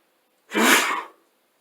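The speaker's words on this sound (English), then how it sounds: "I might sneeze, actually." One close, sudden sneeze with a sharp burst of breath that quickly fades, standing alone with no other sound around it.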